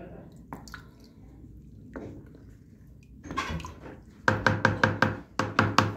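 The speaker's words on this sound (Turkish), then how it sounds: "ben bunu tahta kaşığımla karıştıracağım" A wooden spoon stirs fresh village cheese curds in a pot while whey drips, first as scattered soft knocks and splashes, then a quick run of sharp rhythmic taps near the end, with a voice talking briefly.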